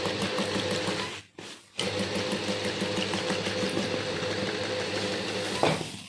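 A sewing machine stitches fabric in a beginner's tailoring class, its close, rapid motor whirring steadily, briefly stopping, then running on alone.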